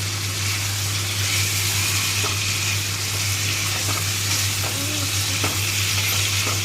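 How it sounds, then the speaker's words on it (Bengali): Spices with turmeric, cumin and tomato sauté loudly in oil in a pan for a soybean dish. The sizzle is dense and continuous, with faint clicks as the mixture is stirred and no speech. "এইভাবে মশলাটা ভালো করে কষিয়ে নিতে হবে যাতে জিরে গন্ধটা যায়"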